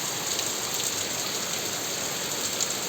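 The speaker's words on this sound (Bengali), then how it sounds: "প্রচুর পরিমাণে বৃষ্টি হচ্ছে আর মেঘও ডাকছে" Heavy rain pours down in a steady, dense hiss that holds constant throughout, close and fairly loud, with no distinct thunder rumble standing out.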